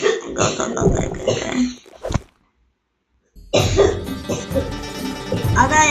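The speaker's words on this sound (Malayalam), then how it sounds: "അത് ഞങ്ങളെ അമ്മച്ചിയമ്മയാണ് ചുമച്ചത്" Several close, harsh coughs from an elderly woman come in bursts, broken by a brief silence, with voices and other noise mixed in.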